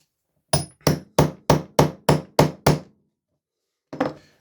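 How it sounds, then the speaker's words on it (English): A hammer domes the end of a rivet on a bronc riding rigging under restoration, with eight sharp, evenly spaced metallic strikes in quick succession, a pause, then one more blow. "I'm going to dome the end of the rivet using the dome portion to that right there."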